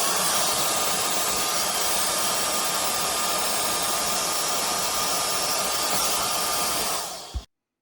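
A cheap $10 marketplace air blower runs with a narrow nozzle fitted, giving a steady, loud, close whine and rush of air with a high tonal hum, then stopping abruptly at the end.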